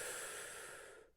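A single slow, deep inhaled breath during guided meditation, a soft airy hiss close to the microphone that fades out at the end.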